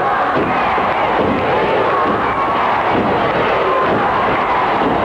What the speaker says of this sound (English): Crowd hollering, "We want Valiant," I believe